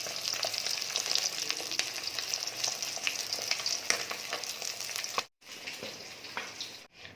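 Fish frying in a pan at home: a steady, dense sizzle that carries on alone with no talk and drops out briefly twice near the end.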